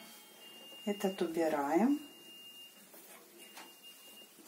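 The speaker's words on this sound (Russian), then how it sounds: "машинка постирала, пикает." A washing machine beeps at the end of its wash cycle in a home kitchen: a thin, high, sustained electronic tone sounds in several faint stretches beneath a woman's nearby speech.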